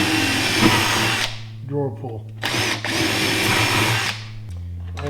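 Close, high-pitched whine of a power drill boring a hole in an oak tool chest, running in bursts, stopping briefly between runs, with a few spoken words in a pause.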